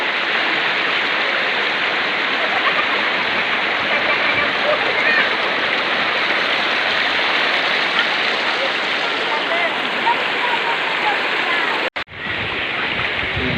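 Steady, full rush of river water flowing over a rocky riverbed, loud and continuous, with a brief dropout near the end.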